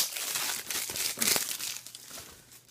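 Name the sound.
unwrapping the plastic from a DVD case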